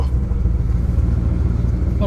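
A Dodge Diplomat's engine idles nearby, a steady low rumble with a faint rhythmic pulse and no revving in this short stretch.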